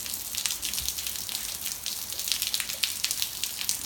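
Rain falling steadily on surfaces and water outdoors, a dense continuous patter of drops with scattered sharper splashes, constant and fairly close throughout.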